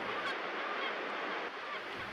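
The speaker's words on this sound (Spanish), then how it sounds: "Con más aumentos podemos discernir que son ejemplares de gaviota cocinera, con algún bighua entreverado." Kelp gulls calling from a narrow strip of shore below a clifftop lighthouse in Argentina, a few honking cries carrying over steady surf and wind noise.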